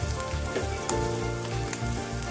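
Chopped onion for kanda pohe fries in a pan over medium heat, a loud, dense, close sizzle with crackling bursts throughout and no speech.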